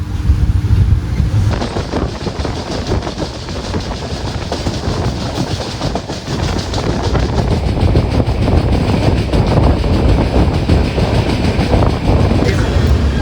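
Sabari Superfast train departing a station on the Coimbatore to Trivandrum route, a loud, close, sustained rumble with a sudden onset and continuous clatter of carriages gathering pace.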